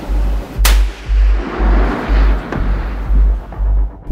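A single sharp rifle gunshot rings out close and loud, followed by a decaying echo, with another fainter shot later over a pulsing low rumble.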